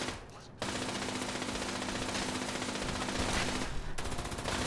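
Turret fire in Fallout 76, a sustained dense burst of rapid automatic gunfire that starts abruptly after a brief lull and rattles on steadily at close range, with no talk over it.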